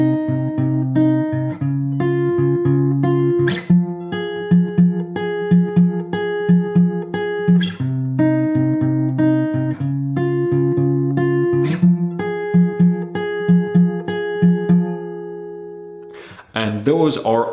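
An acoustic-style guitar plays the second part of a song's chorus, ringing sustained chords and single notes in a steady repeating phrase, close and clear with no talking, ending in a brief strum.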